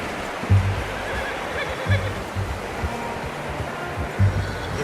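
A horse in the video game Red Dead Redemption 2 gives several short, low snorts and whinnies at a moderate distance, spaced apart over a steady ambient background of outdoor noise.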